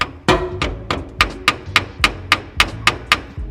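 A hammer strikes a small gunk-clogged carburetor repeatedly, about a dozen sharp, ringing whacks that speed into a steady rhythm, loud and close.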